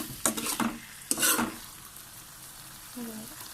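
Pineapple pickle is stirred in a pan, with two loud bursts of scraping and sizzling near the start, then a quieter simmer and a brief clink of utensils; no talking.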